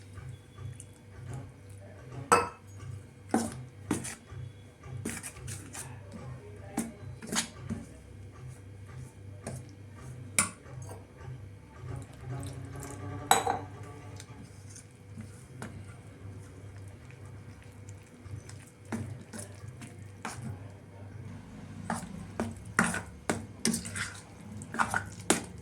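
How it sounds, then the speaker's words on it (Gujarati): Wheat flour dosa batter being stirred as water is added, giving scattered wet clicks and soft sloshing taps from a spoon against a bowl, close and irregular with low background hum and no talk. "આપણે હવે પાણી એડ કરતા જઈએ અને હલાવતા જઈશું."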